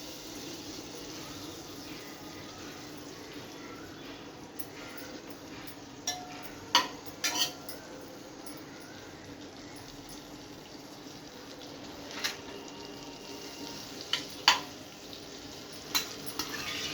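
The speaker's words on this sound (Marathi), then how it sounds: "आता पनीर आपल्याला थोडंसं फ्राय करून घ्यायचं आहे." Marinated paneer fries in melted butter in a pan for dhaba-style paneer masala, with a steady soft sizzle and occasional sharp clicks of a spatula stirring against the metal.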